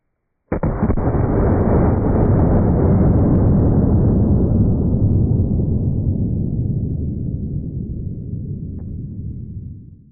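A Winchester 1897 trench gun fires a single double-aught buckshot round at body armor: one very loud, sharp blast followed by a long, rumbling tail that slowly fades over several seconds.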